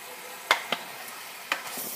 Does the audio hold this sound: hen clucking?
no